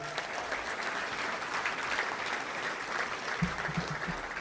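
A crowd applauds warmly and continuously, the clapping holding steady throughout, with a few louder claps near the end.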